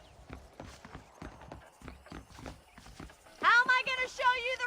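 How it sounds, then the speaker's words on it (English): Saddled horses at a ranch in the video game Red Dead Redemption clip-clop in a steady walking rhythm of close hoofbeats, then a voice speaks over them near the end. "The horses are saddled up over here."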